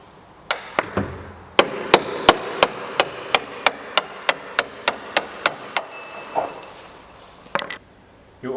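A hammer taps a bolt out of the timber of a shipping crate for a Tow and Collect 1500 Pro, about a dozen sharp, evenly spaced knocks, close and alone, with a few scrappier knocks at the end.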